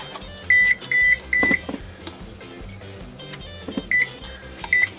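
Kitchen oven timer beeping in short repeated bursts, four or five bright electronic beeps spaced across the span, with some kitchen clatter between them.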